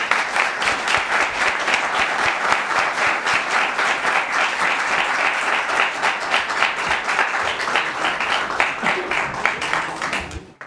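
Steady, full applause from the audience at a municipal candidate forum, loud and continuous for about ten seconds, then fading out at the end.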